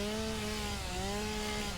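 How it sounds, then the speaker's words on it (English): A chainsaw in the factory-building game Satisfactory runs steadily at close range, its droning engine tone wavering slightly in pitch with a rough cutting texture, heard alone with no talk. "And now we got a chainsaw."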